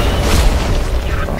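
A rocket explosion in the video game Borderlands 2 lands as a loud, dense booming burst over sustained low rumble, with a player's voice talking over the blast.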